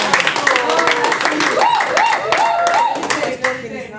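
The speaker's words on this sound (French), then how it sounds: "Acclame très fort la parole de Dieu." A church congregation clapping loudly in acclaim, dense and fast applause mixed with shouting and singing voices, close and lively throughout.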